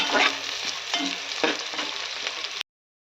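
Green chili sautéing in hot oil in a pan, a dense steady sizzle with a few soft stirring scrapes, close and loud, then cutting off abruptly near the end.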